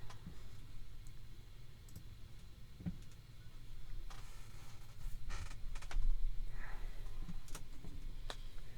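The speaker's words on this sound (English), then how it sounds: "I'm going to try and shuffle them up a little bit better here. It's tough to shuffle these cards." Golf-themed trading cards are shuffled by hand, giving soft, irregular clicks and riffling flutters close up over quiet background hum, growing busier toward the end, with no talking.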